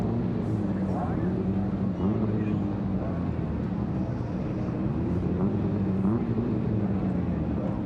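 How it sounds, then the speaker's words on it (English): Rallycross race cars idle and rev on the grid before the start at the 2019 World RX of Great Britain, a continuous rough engine drone with repeated throttle blips rising and falling, heard under a commentator talking. "Blipping the throttle, they're eager to get going"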